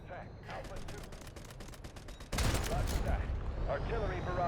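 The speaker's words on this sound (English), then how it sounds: "Artillery barrage incoming." Rapid gunfire crackles in the Delta Force video game, then a heavy artillery barrage erupts with dense, rumbling booms that persist loud and close to the end.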